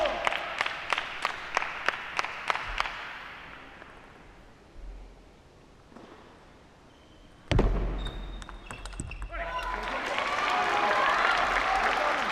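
Bay Area Blasters fans at a table tennis match applaud and cheer: a run of sharp ball or clap hits, a quiet stretch, then a thump and swelling crowd noise and clapping toward the end.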